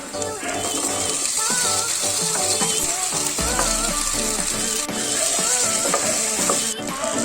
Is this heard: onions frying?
yes